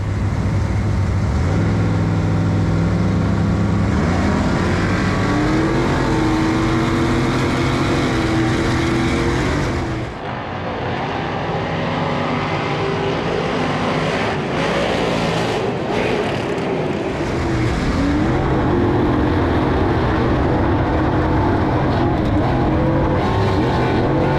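Off-road race trucks tear around the Crandon track, their engines roaring loud and continuous for the whole stretch, with a brief dip near the middle as vehicles pass by, and no talking.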